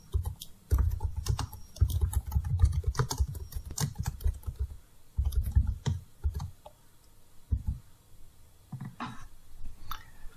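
Keystrokes on a computer keyboard while writing a document in Microsoft Word 2019, close and clear, coming in quick bursts of clacking with short pauses between runs, no voices.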